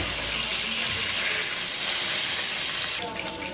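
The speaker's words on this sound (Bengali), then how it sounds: "এই চুলায় মাছটা ভেজে নিব তেল গরম হয়ে গেছে" Steady, dense hiss of fish frying in hot oil on a stove, crackling continuously throughout with no break.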